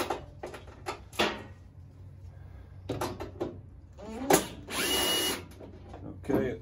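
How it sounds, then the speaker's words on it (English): Short bursts of a power driver or ratchet tool backing out 5/16 bolts on a Toro 518 ZE snowblower, with clicks and handling noises between runs in a quiet, cold setting. "All right, we'll put our wrench on here."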